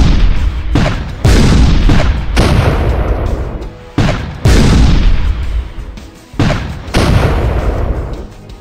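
Airstrike explosions in the video game ShellShock Live 2: four heavy booming blasts in close succession, each a loud burst decaying into rumble before the next one hits.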